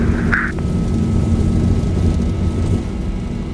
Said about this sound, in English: Aircraft is rolling on the runway for departure.